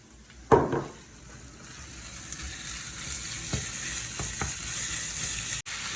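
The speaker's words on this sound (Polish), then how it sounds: "wołowina z dodatkami, jak widzicie, nam się pięknie smaży" Steady sizzle of beef tenderloin frying with garlic and chili in a hot pan, a loud crackling burst near the start, then a continuous hiss with occasional spatters.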